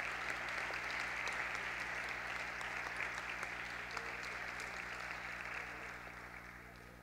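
Steady applause fills a school graduation ceremony, dense and even from start to finish, slowly fading toward the end with no talking over it.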